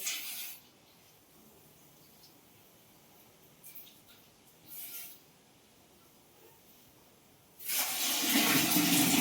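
Borewell water gushes loudly at the start, falls quiet for several seconds, then surges back as a strong, steady rushing flow.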